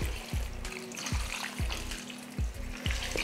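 Water goes into a frying pan of sizzling cauliflower curry, a close splashing hiss broken by repeated rhythmic scraping strokes, with no speech.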